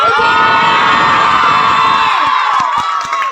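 A live crowd at a stage dance show in Koppam roars with cheering and shouting, a dense, loud wall of voices that thins near the end into a few sharp claps and whoops.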